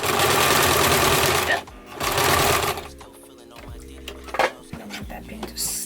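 A sewing machine zigzag-stitches bandana fabric squares into a duffel bag, its fast, loud mechanical chatter running in two bursts before giving way to quieter handling clicks and a voice.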